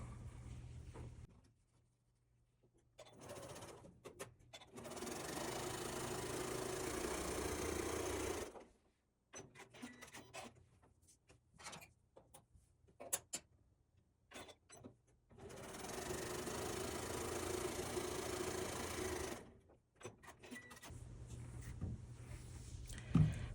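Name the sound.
sewing machine stitching quarter inch seams on fabric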